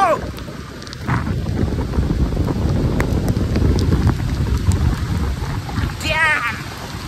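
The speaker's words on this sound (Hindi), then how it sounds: "बड़ी तेज बारिश आ गई है" Heavy rain pours steadily with a dense low rumble, and faint voices and a brief whistle-like sound appear over it.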